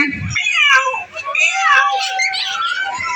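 A voice imitates a cat, giving drawn-out wavering meows up close and fairly loud, with a short break partway through.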